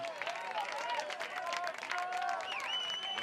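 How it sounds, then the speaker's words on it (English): Home crowd clapping steadily at a boys lacrosse section semifinal, applause sustained and moderately distant with some voices mixed in. "And the Red Knights, home crowd, they're clapping."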